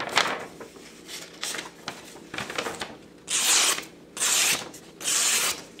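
An AEB-L steel utility knife slices through printer paper: scattered light scrapes and rustles give way to three sharp, bright hissing strokes, each lasting about half a second with brief pauses between.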